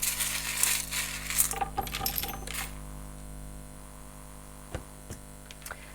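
Small metal charms shuffled and dropped for a charm reading, with a cluster of bright clinks and jingles early on, then a few sparse single taps later, over a low steady mains hum.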